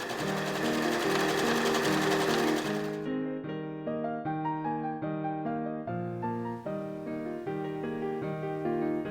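A sewing machine quilting fabric for a quilted jacket runs steadily and close up, with a continuous stitching drone and a rhythmic, pulsing texture.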